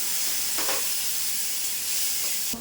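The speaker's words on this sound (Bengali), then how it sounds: "একটু জল দিয়ে কম আঁচে একটু ভাজবো" Spice paste of turmeric, chili, cumin and coriander powders hissing and sizzling steadily in a pan of oil over low heat just after a splash of water is added, a continuous close steamy hiss with a sharper burst near the end.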